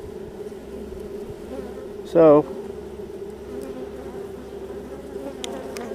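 Honeybees crawl and buzz around a queen marking plunger with a grate, giving a soft steady hum with one brief, louder close buzz as a bee passes near.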